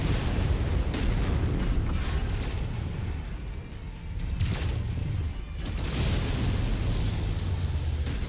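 PPC weapons firing on a Marauder mech in MechWarrior 5: loud crackling energy blasts and booming impacts over a constant battle rumble, with short swells and a brief dip in the middle, no talk.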